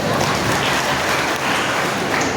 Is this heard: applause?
yes